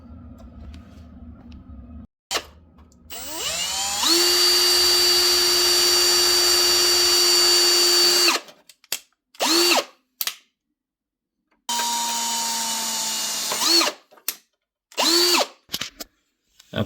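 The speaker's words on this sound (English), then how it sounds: "you should be able to drill right through those holes as a pattern" A power drill whirs in several bursts while drilling holes in a PC case, one long steady run with the motor pitch rising as it spins up, then shorter stop-start pulls with pauses between.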